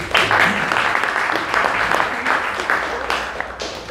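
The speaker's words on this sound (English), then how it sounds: "A big warm applause for Megan." A conference audience gives warm applause to a speaker, steady clapping filling the room, with a few voices faintly mixed in.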